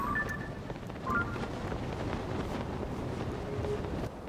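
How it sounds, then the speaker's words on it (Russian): A steady stream of cold wind rushes out of a hatch on a ship in Zelda: Tears of the Kingdom, a continuous breathy whoosh with faint tonal game sounds layered over it. "Посмотрим, что этот люк таит за собой, из которого такой поток холодного ветра."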